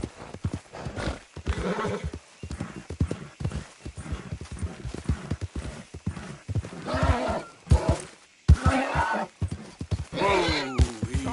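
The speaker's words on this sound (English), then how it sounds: "That horse has got your number, Arthur." A horse in Red Dead Redemption 2 gallops with quick, loud hoofbeats, then lets out a shrill whinny near the end, with scuffling and grunts mixed in.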